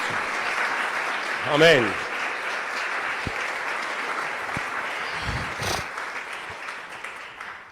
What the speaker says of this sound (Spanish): pido un aplauso fuerte para Él en esta noche